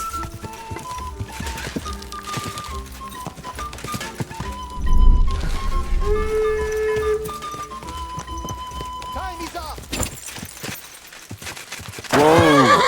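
A horse neighs amid game music and galloping hoofbeats during mounted archery in Kingdom Come: Deliverance II, with a rising whinny near the end over a busy, layered soundtrack.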